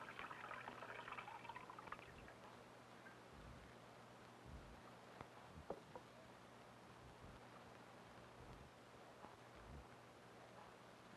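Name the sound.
fresh water poured into a fish tank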